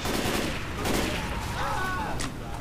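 Rapid bursts of video game gunfire in Left 4 Dead 2 as players shoot burning cans, several quick shots in succession with faint voices underneath.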